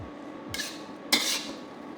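Shrimp and vegetable stir-fry noodles tossed in a pan, giving two short scraping, clattering bursts of utensil against metal, the second louder, with quiet gaps between.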